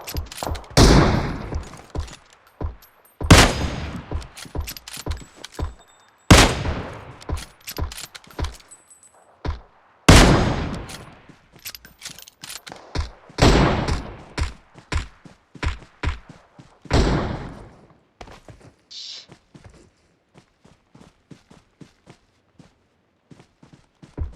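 Gunfire in an online shooter game rings out in repeated loud bursts and single shots, some near and some farther off, spread across a long stretch with short silent gaps between volleys.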